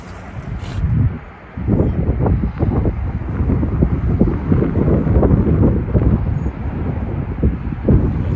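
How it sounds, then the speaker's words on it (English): Seaside wind buffeting a camera microphone during shore fishing, a loud rumbling roar in uneven gusts that drops out briefly near the start, then pounds on continuously up close. "I hope the wind's not going to bother the mic there, the camera, because it's a bit of a breeze"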